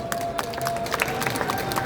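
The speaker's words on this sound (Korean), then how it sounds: "큰 박수 부탁드리겠습니다." An audience claps at a book launch celebration for a county governor in Buyeo. The applause is dense and steady, filling a hall, with crowd murmur underneath.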